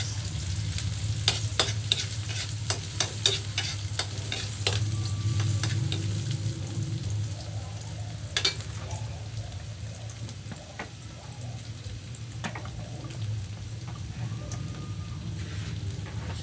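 Garlic and onion sautéing in a pan for a mung bean and sardine dish, a continuous close sizzle punctuated by sharp clicks and taps of a utensil stirring, steady throughout.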